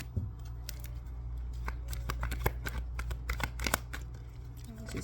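Tarot cards are shuffled close up in quick, crisp riffles and snaps, a dense patter of card flicks over a low steady hum.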